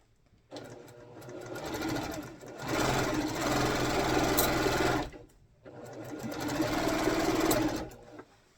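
A sewing machine stitches down the borders of a quilt in two long runs, a steady rapid mechanical whirr starting and stopping with short quiet gaps between.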